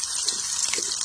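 Chopped onions dropped into hot oil in a Bengali home kitchen give a steady, bright hiss, close and continuous for about a second.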